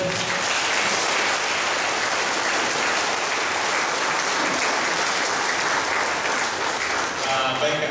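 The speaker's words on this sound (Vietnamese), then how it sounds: "chúng ta cùng với mọi người xin một tràng pháo tay" A congregation at a thanksgiving Mass for a newly ordained priest gives sustained, loud applause, a thick wash of many hands clapping without letup, with some voices mixed in.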